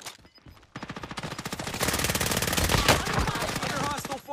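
Dense automatic gunfire crackles from Call of Duty Warzone, a brief lull then sustained rapid bursts building louder and busier, several weapons overlapping with faint voice chat underneath.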